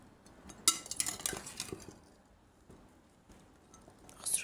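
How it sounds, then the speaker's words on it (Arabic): Cut chicken being stirred into a Tunisian red squash shakshuka: a burst of clinks and scraping of a utensil against the pan, then quieter intermittent stirring, with a few more clinks near the end. "ونبدا نخلط"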